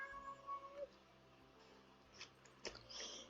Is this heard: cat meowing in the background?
yes